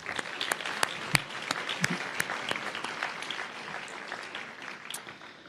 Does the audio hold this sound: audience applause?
yes